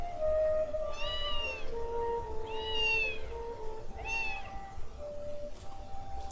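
Cat in the visual novel game Princess Evangile gives three clear drawn-out meows in a row, evenly spaced over soft background music.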